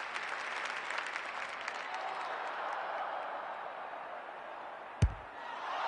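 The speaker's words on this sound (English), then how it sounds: "The crowd noise tells you all you need to know." A large crowd at a women's Australian rules football match applauds and cheers continuously, a dense roar of clapping, with a single sharp thud near the end.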